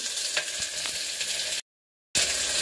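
Onion frying in a pan for a home-cooked dal and potato meal, a steady close sizzle with light stirring scrapes, cut by a brief dropout of silence before the frying resumes.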